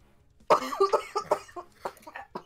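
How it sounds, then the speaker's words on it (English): A person recovering from a cold coughs repeatedly at close range, a strong first cough followed by a string of smaller hacking coughs and throat noises. "I'm gonna be coughing a lot regardless."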